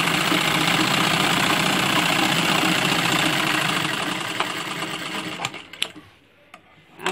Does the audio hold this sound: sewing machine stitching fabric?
yes